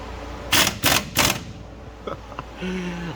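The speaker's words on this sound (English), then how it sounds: "with a 15mm socket, secure these down" A socket ratchet tightens 15mm nuts on a catalytic converter of a 2013 GMC Sierra, three quick loud ratcheting bursts close up, then a few faint clicks and a low hum.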